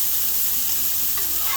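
Diced serrano peppers and onions sizzle in an olive and vegetable oil mix on a 22-inch Blackstone griddle, a loud, dense, continuous hiss close up with no voices.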